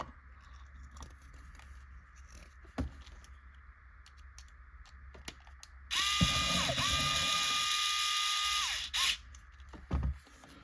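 An electric driver spins an M3 by 14 screw into an RC servo during a kit build, a loud whirring burst of about three seconds with a pitch that dips and recovers, framed by quieter clicks and handling taps.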